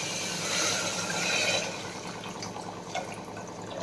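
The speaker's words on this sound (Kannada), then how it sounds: "ಇನ್ನು ನೀರು ಸೇರಿಸ್ಕೊಳ್ಳೋಣ." Water poured into a cooking pot over fried tomatoes while making rice in a home kitchen, a steady splashing stream that eases off partway through, close and alone.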